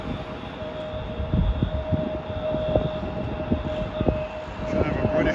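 A steady passenger jet engine hum drones in the distance at JFK airport, with a faint whine and scattered low thumps over a constant rumble.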